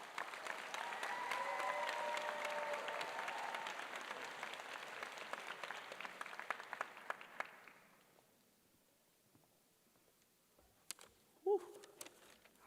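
Audience applause at a dental school white coat ceremony, a sustained round of clapping from a large crowd that fades out after several seconds, followed by near silence with a few faint handling sounds.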